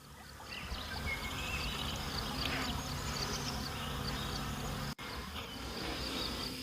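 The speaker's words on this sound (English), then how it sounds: "Only the sounds of the forest and bees." Bees buzzing in an oak forest, a steady, continuous insect drone that fills the air evenly with soft rustling ambience and a brief dropout near the end.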